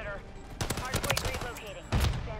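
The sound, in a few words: M13B rifle gunfire in Modern Warfare 3 video game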